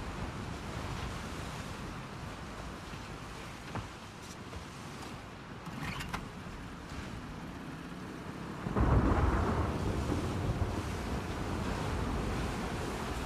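A stormy sea with wind in the video game The Last of Us Part II: a constant roar of churning waves and gusts, with a brief crackle partway through and a louder surge of water toward the end, no voices.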